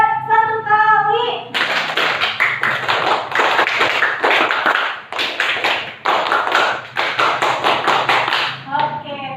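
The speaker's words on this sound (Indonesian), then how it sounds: "Tepuk pramuka 1 kali." Schoolchildren in a classroom perform the 'tepuk pramuka' scout clapping pattern, a dense run of fast, loud, rhythmic group claps after a brief spoken lead-in, ending with a short voice.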